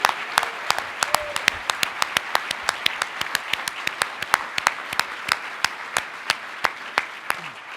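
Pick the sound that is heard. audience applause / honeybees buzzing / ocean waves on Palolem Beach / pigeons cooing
audience applause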